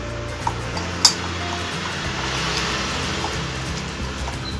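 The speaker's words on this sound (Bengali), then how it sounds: "এরপর সব উপকরণগুলো আমি একসঙ্গে মেখে নিচ্ছি।" Fish roe, onion paste and gram flour are mashed together by hand, giving soft, wet squelching and stirring noises close by, with a couple of faint clicks and no talk.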